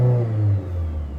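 A rough-running Toyota Corolla engine, sitting unused for over a year, revs loudly up close, its deep steady drone easing slightly partway through, with no talk over it.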